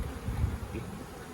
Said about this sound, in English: go ahead and smoke these bees